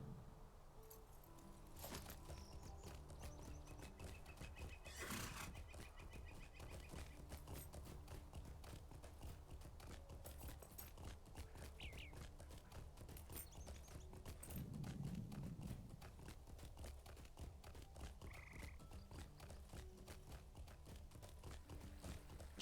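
Horse hooves clip-clop steadily at a walking pace in Lord of the Rings Online, near Ham Glen, a continuous rhythmic clatter with faint game ambience behind and a brief rustling swell partway through.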